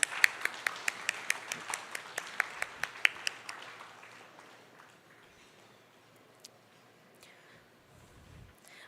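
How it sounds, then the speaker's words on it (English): An audience at a PGDM orientation program claps through a burst of about three seconds of sharp, close claps that thin out and fade to a low murmur, with a few scattered claps and faint voices near the end. "A big round of applause, please."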